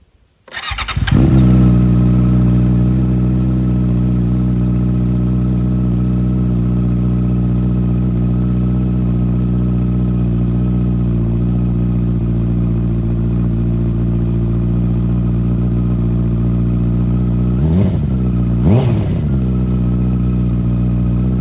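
A 2023 Honda CBR650R with a CS Racing exhaust starts and idles with a loud, deep, throaty exhaust rumble, close by, with a couple of quick throttle blips near the end.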